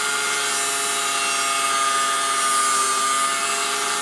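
A power tool trims the edge of a steel winch mount for a Jeep Gladiator, a loud steady whine that holds without a break for the whole stretch, with no voices over it.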